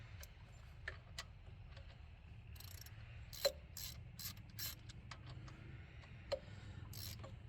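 Socket wrench with a deep-well 5/8 spark plug socket ratcheting on bolts of a 2006 Jeep Liberty, giving scattered quiet clicks and short ratchet bursts over a low steady hum, with no talk.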